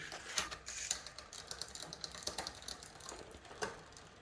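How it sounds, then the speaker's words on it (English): On an ebike, the chain jumps onto the third cog as the derailleur is adjusted. The result is a quiet, close run of light mechanical clicks and ratcheting ticks, irregular and sharp, with no talk. "I use this barrel adjustment to tighten it up until it jumps to the third gear, and you'll hear it"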